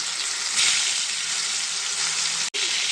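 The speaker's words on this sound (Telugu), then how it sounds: "ఇవి కూడా కొంచెం గోల్డ్ కలర్లో వచ్చేదాకా మనం ఫ్రై చేస్తాము" Pieces of fish fry in hot oil until golden, giving a steady, close sizzle that swells briefly and cuts out for an instant near the end.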